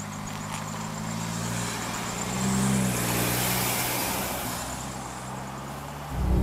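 A VW T6 Highline camper van with a DIY conversion cruises on the road, giving a soft, steady engine and tyre rumble inside the cabin that swells slightly midway and thumps louder at the end.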